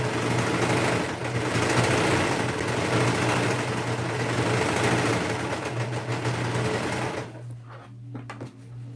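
A sewing machine stitches a minky blanket, its motor whirring steadily and loudly at close range for about seven seconds before it cuts out into near quiet with a few faint clicks.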